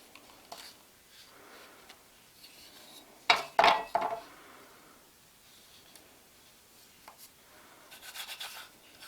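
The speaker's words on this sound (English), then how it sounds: "Get a nice clean cut on your cookie and push it out right onto your cookie sheet." Metal cookie cutters press through rolled cookie dough in a quiet kitchen, giving a few soft scrapes and light clicks, with a brief cluster of louder contacts in the middle and faint rubbing near the end.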